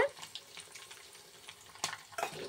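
Tempering spices fry in a pan on fairly high heat with a quiet, crackling sizzle and a few sharper popping bursts toward the end.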